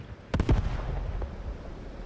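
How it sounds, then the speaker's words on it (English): Muffled blasts and crackling pops from an ammunition fire in Post Scriptum, a WWII game: a quick cluster of booming bursts, then a softer pop, over a low rumbling battlefield bed. "I thought that was an ammo fire."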